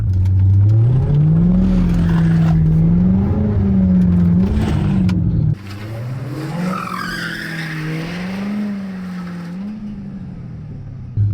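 A C5 Corvette in competitive driving mode revs hard while one rear wheel spins, the engine drone rising and falling in long surges, then a sharp drop into a rougher, squealing whine, loud and close.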